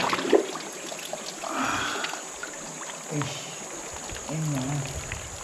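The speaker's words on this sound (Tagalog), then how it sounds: "Dito tayo sa falls." Cold spring water pours down a small waterfall in a lagoon, a steady moderate rush with people's voices over it.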